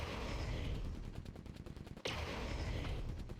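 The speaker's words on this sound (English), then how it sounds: "Oh, beam rifle!" A beam rifle shoots inside a VRChat mech roleplay, giving a rapid train of sharp, close shots that stutters to a brief pause and then resumes in a steady dense roar.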